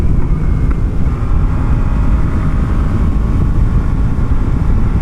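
A Yamaha FZ-10 motorcycle engine drones steadily while riding, a continuous loud low rumble mixed with heavy wind buffeting, with no voices.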